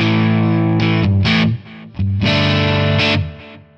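Electric guitar played through a clean Mesa Boogie MkII capture on a Quad Cortex, using a single-coil pickup: loud chord stabs and short phrases with a warm, slightly gritty edge, separated by brief gaps.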